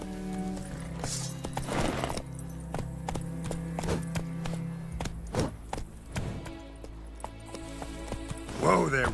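Roach, a horse in the Witcher video game, clip-clops steadily across ground with rhythmic hoofbeats, close and moderately loud, while someone talks over them and game music runs underneath.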